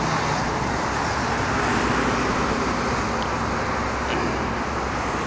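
Dense traffic of private cars streams east along the Jakarta-Cikampek toll road near the kilometre 62 rest area, a steady, loud roadway rumble and hiss without a break.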